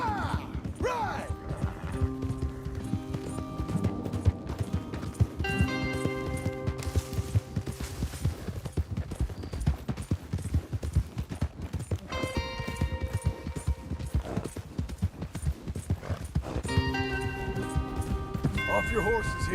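Horses gallop with rhythmic clip-clop hooves through a scene in the video game Red Dead Redemption 2, steady and fairly loud beneath game music and character dialogue.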